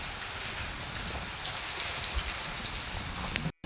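Steady rain falls outdoors, a dense, even patter on surfaces that holds at the same level throughout and cuts out briefly near the end.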